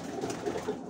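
Pigeons settled back in their home loft give a short spell of low, rolling cooing, close and continuous, a soft throaty murmur with no voices.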